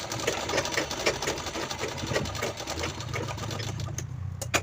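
A sewing machine stitches a handle onto a hand purse with a steady, close mechanical whirr and rapid needle chatter, running continuously before easing off near the end.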